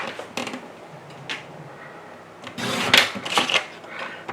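Card stock is being cut with a paper trimmer, heard as scattered soft clicks and scrapes that grow into a busier run of sliding, rasping strokes near the end; no voices.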